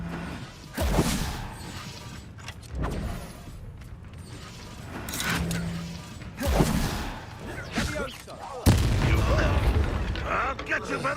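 Spell blasts and explosions in the Hogwarts Legacy video game, several booming impacts and crashes with mechanical clatter spaced across the clip, under voices casting spells.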